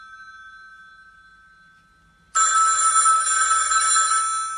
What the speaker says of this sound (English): It's the telephone. Could someone pick that up?